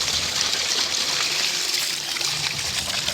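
Bore well water flowing steadily beside a green field, a continuous rushing, trickling wash that stays close and loud without a break.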